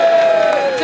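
A debate audience cheers for Don Foster in a short, loud burst of raised voices and whoops with a little clapping underneath.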